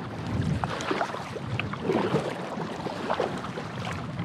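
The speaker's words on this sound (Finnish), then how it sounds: "Alkoi hirveä myräkkä vastaan." Strong headwind gusting across open water while paddling packrafts on a wilderness lake, a steady broadband rush with paddle splashes and water slaps scattered throughout, continuous and fairly loud with no talking.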